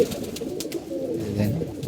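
A pigeon coos softly and steadily at close range, a low throaty murmur over a faint background.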